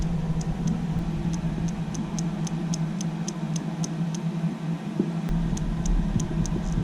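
Steering servo with excess play on a low-use Vaterra Ascender RC crawler, giving a steady series of light, evenly spaced clicks over a constant low hum, close by and moderately loud.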